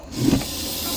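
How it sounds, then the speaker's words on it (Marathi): A large, thick Russell's viper hiding in a house parking area gives a short, close hiss. The breathy sound rises quickly and then holds steady for most of a second. "घोणस आहे बघा आवाज करतोय घोणस साप असा आवाज करतो"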